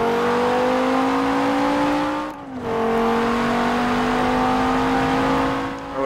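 Race car in Forza Motorsport 7 revving hard toward redline, with a brief dip for an upshift before the engine climbs again, loud and steady with no talking.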